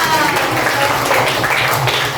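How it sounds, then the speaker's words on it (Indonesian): Schoolchildren in a classroom break into applause, a brief burst of dense clapping mixed with a murmur of young voices. "Beri tepuk tangan buat Saka."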